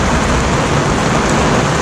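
Heavy rain pours onto a sailboat anchored in a bay during a thunderstorm, a loud, dense, unbroken hiss of drops that fills the whole moment with no voices.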